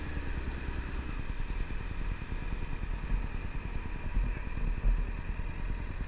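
A motorcycle engine drones steadily and close while the bike rides around a left turn, holding an even, rumbling pitch with little change in loudness, no voices.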